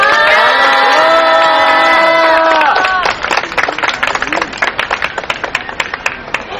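A crowd at an outdoor press conference condemning an attack on a comfort-women statue applauds and cheers to welcome a lawmaker to the podium; after sustained harmonic tones at the start, dense clapping fills the rest of the clip, loud and close.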